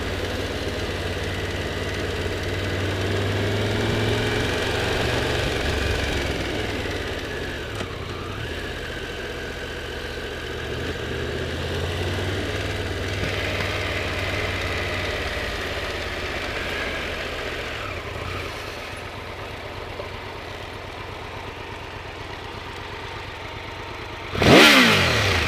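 A Triumph Tiger 1200 GT Explorer motorcycle engine idles steadily in first gear with a low, throbbing rumble for most of the stretch, with a sharp, brief burst of noise near the end.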